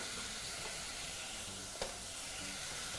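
Onions sizzle steadily in a hot pan for beef biryani, a constant low hiss of frying with a brief louder crackle midway, no voices.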